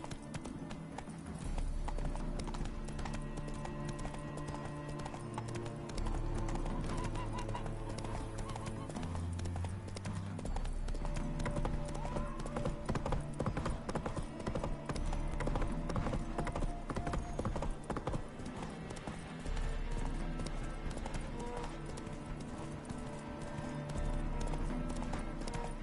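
A horse gallops across open ground in The Witcher 3, its hooves clip-clopping in a steady, fast rhythm under constant game music and ambience, with an occasional neigh.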